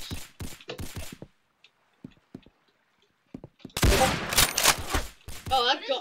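Rapid gunfire bursts from a weapon in a 1v1 video game match, loud and dense in the second half after scattered sharp shots, with a player's voice reacting throughout.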